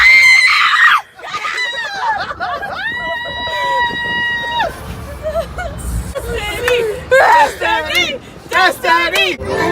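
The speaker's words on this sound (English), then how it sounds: "We're screaming and you guys... I'm screaming too." Riders scream on a Disneyland attraction in the rain, long loud sustained shrieks from several people close by, mixed with shouting and excited talk.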